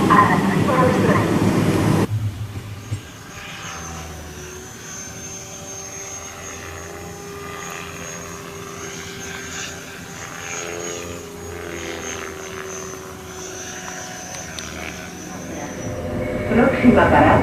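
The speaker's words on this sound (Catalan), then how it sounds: "Atención a la salida del tren." A Rodalies R3 commuter train pulls out of a station, a brief announcement giving way to a rising electric motor whine and steady rolling hum that swells again near the end.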